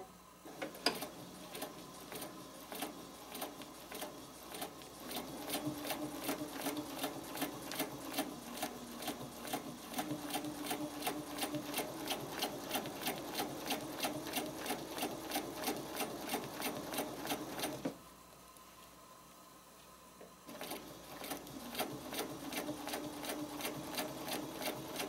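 A sewing machine stitches a spider web design, its needle hammering in a fast, steady close rhythm that stops for a couple of seconds and then resumes.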